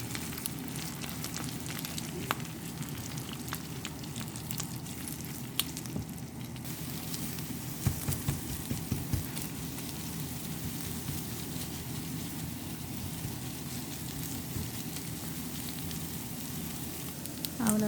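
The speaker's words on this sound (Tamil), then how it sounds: "ஸோ இப்போ வந்து நல்லா முட்டையை கிளறி ஸ்க்ராம்பிள் பண்ணி கொள்ளுவோம்" Eggs being scrambled with pepper, alongside sausages, in a hot pan: a steady, soft sizzle and crackle throughout, with occasional light taps and scrapes, fairly quiet and without speech.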